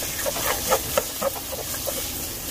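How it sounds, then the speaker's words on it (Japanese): Eggs quickly stir-fried in rapeseed oil in a pan, a steady close sizzle with soft scraping stirs every few moments. "卵を入れて、これもね、さっと炒めるよ"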